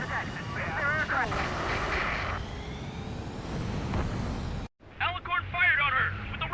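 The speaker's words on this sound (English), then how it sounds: "Confirming launch of submarine-based aircraft." A submarine-based aircraft launching in the Ace Combat 7 video game, a loud roaring jet rush under radio chatter, dropping out briefly and returning with more voices.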